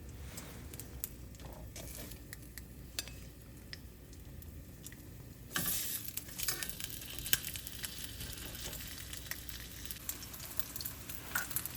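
Pork chops fry in cooking oil in a pan, a steady close sizzle that jumps louder partway through as more pieces go in, then keeps crackling and popping continuously.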